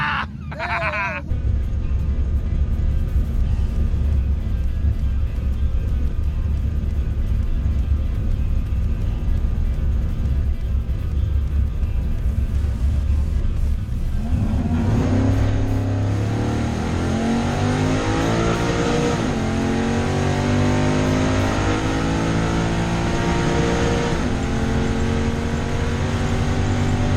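A silver third-generation Camaro and a Corvette race on a track, engines roaring loudly and continuously, with rising revs and sweeping engine pitch as the cars accelerate and pass.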